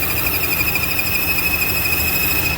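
High, steady whistle from a vacuum leak at the PCV valve on a 2015 Chevy Cruze engine, a continuous tone over a rough idling rumble with no talking.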